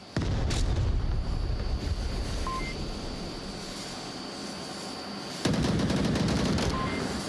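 Gunfire in the VR shooter Onward during a competitive match: a loud, steady stretch of automatic fire opens with a sharp burst, holds for several seconds, then another close burst kicks in near the end.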